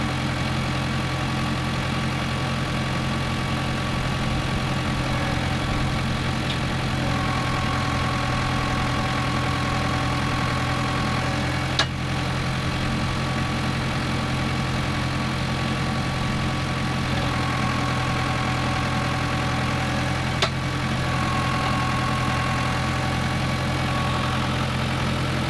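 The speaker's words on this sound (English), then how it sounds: "Might go jump on the tractor, just drive it for him" A tractor engine idles steadily on a farm during fencing work, a low, even mechanical hum with a constant throb that holds for the whole stretch, with faint clicks now and then and no voices.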